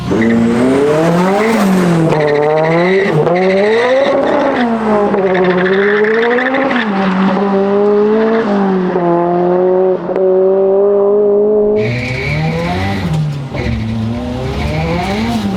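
A 515-horsepower rear-wheel-drive Honda Civic revs hard through rising and falling engine sweeps, tires squealing loudly and continuously near at hand, with a sharp higher whine breaking in toward the end.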